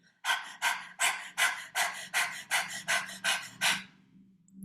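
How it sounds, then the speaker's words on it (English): Rapid open-mouthed panting with the tongue out, about ten quick rhythmic breaths in a steady burst, close and fairly loud, then trailing off into quiet. "Opening the mouth and sticking the tongue out and breathing rapidly."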